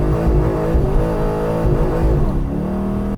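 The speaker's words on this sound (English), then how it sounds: "This trans tune is fucking awful. It just struggles to find gears." Pontiac G8 sedan with a poorly tuned transmission struggling to find gears, the engine droning loud and close with a wavering pitch that rises and dips as it hunts between shifts.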